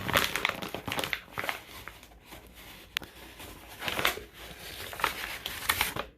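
Envelopes are pulled one-handed from a mailed eBay package, crinkling and rustling paper and cardboard in close, uneven bursts of handling noise.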